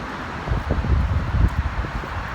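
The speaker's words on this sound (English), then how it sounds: "It's super windy out here" Strong wind buffets a microphone on a shoreline, producing a steady low roar with gusty, uneven bursts that peak briefly and then settle.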